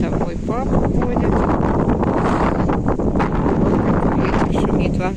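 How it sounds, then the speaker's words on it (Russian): Strong autumn wind blowing outdoors in a yard with chickens, a dense steady rushing roar close to the microphone that never lets up, with a voice speaking over it. "Ветер шумит, вам слышно, да?"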